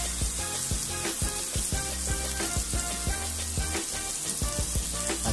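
Garlic sizzles in a hot pan for a Filipino milkfish and eggplant coconut stew, a loud steady crackle broken by frequent sharp pops and spatters close up.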